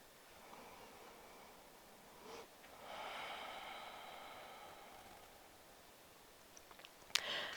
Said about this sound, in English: that ujjayi breath where we slow the inhale as well as the exhale for that warming breath